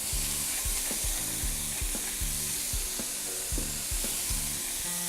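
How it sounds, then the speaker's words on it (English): Beef burgers sizzle steadily in a hot pan after being flipped, a loud continuous fry with scattered spatula scrapes and knocks, no voices. "I'm going to flip my burgers over."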